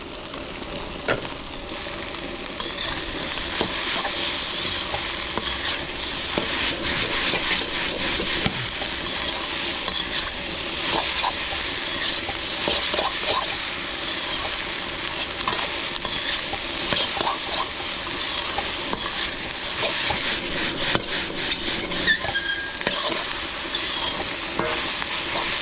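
Chicken hakka noodles with green onions stir-fried in a pan, under a loud, steady sizzle with frequent spatula scrapes and tosses close by.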